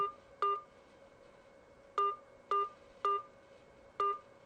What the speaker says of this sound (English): So now I'm going to enter the PIN number below you see there.